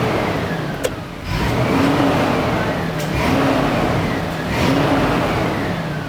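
An old barn-find Toyota Landcruiser idles steadily up close, its engine rising gently in a few soft revs as the truck rolls back and forward, with a sharp click near the start and small creaks over the smooth running.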